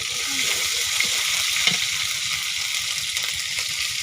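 Cumin paste and garlic paste frying in a pan for a pangas fish curry, a steady hiss of hot oil with a dense low crackle, close and fairly loud, no talking.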